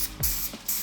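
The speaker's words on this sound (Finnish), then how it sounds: "Alle tulisi Mastonin ihan perusvalkosta, spraymaalia." White Maston spray paint hisses from an aerosol can in two or three short bursts of close, bright spraying separated by brief pauses.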